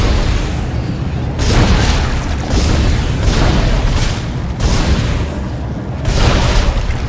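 Heavy booming explosions in the video game Dead Space 2 roll one after another, loud and continuous, with dense rumbling bursts layered over each other.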